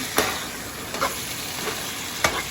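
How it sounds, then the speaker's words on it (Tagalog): Squid stir-fries in a pan, with a steady close sizzle punctuated by a few distinct utensil scrapes and taps as it is stirred. "Saka po, halo-haluin natin. Mekas-mekas lang po natin yan."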